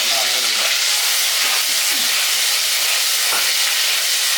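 Ginger and garlic frying in a hot pan for fish curry, a steady, close sizzle with faint stirring scrapes running through.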